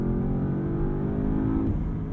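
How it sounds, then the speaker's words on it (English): Porsche Panamera GTS Sport Turismo with PDK gearbox in Sport Plus, engine revving hard toward redline, a loud close sustained roar that holds pitch and then eases off, no talk. "Right there, holding it out to redline"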